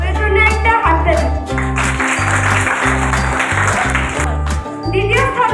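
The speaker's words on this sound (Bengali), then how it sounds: "এর জন্য একটা হাততালি।" Applause for the winning students at the final round of a school quiz competition: a broad, steady wash of clapping that runs through the whole stretch over a low, sustained tonal hum.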